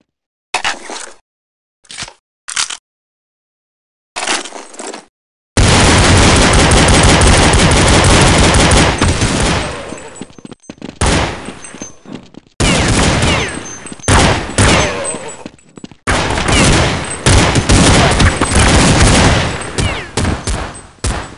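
Sustained automatic gunfire from Counter-Strike 1.6, loud and close: a few short early bursts, then long continuous volleys with brief pauses, no talk over them.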